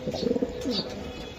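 A male racing pigeon coos at a breeding farm, giving a quick run of throaty pulses followed by a longer rolling coo, close and fairly clear.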